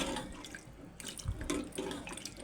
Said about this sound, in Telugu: మనకి ఎంత అవసరం ఉంటే అంత వాటర్ వేసుకుందాం.